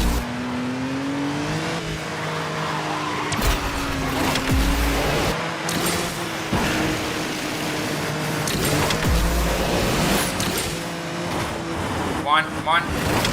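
Apollo N, a Class B car in the racing game Asphalt Legends Unite, engine droning and shifting pitch as it accelerates, with whooshes and impacts layered over it and someone talking throughout.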